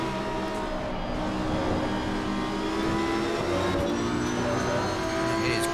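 A BMW race car runs in Assetto Corsa Competizione during the Spa 24 Hours Blancpain Endurance Cup round, its engine a sustained, loud, tonal roar shifting in pitch, with no voice over it.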